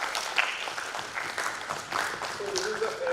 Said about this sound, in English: Please have a huge round of applause for the Kshitij sir.